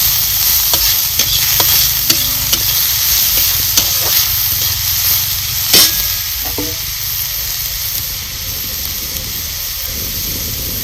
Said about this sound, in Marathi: कांदा आपल्याला चांगला भाजून घ्यायचा आहे